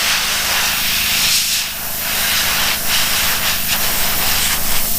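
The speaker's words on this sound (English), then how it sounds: "Use the air to help make sure it's dry." Compressed air blows a steady, loud hiss over a fresh coat of paint on a custom Gulf racer to dry it, with a brief dip in the middle and a few gusty surges near the end.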